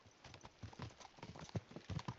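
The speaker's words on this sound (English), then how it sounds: "Let's really spur these horses on, eh?" Galloping horse hooves in the Kingdom Come video game pound out a quick, steady rhythm of close, clear clip-clops during a horse race toward a roadside chapel.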